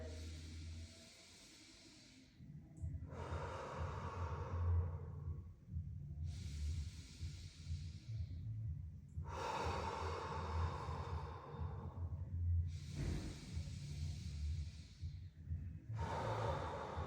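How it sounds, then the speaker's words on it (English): Slow, deep breaths during a gentle breathing exercise: long soft exhales alternate with inhales in a steady rhythm, close and quiet, five or six cycles with no talking. "fill up the space at the back, gently exhale"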